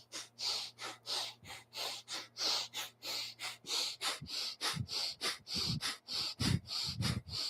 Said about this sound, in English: And begin breath of fire.